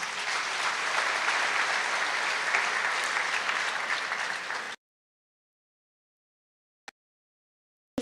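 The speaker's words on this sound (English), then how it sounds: "Please give them a round of applause." A graduation ceremony crowd applauding a brass and percussion ensemble and an anthem vocalist, loud sustained clapping for nearly five seconds that cuts off abruptly into silence, broken only by two brief clicks.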